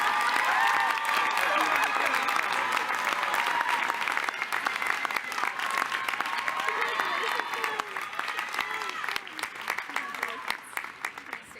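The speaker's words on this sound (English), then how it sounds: "Let's clap." Sustained audience applause fills a law school convocation hall, a steady dense wash of clapping from a large crowd with a scattered few cheers, carrying on loudly throughout and easing only slightly toward the end.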